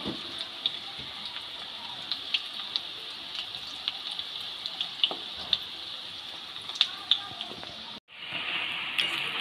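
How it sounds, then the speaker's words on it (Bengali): Batter-dipped soybean pieces frying in hot oil for chilli soybean, a steady hissing sizzle with scattered sharp crackles and pops, briefly cutting out before resuming. "ব্যাটারে চোবানো বাকি সয়াবিনগুলো আমি একইভাবে ভেজে নেব।"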